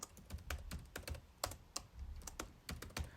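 Names are typed on a computer keyboard in short bursts of crisp, close key clicks with brief pauses, quiet and with no talk over them.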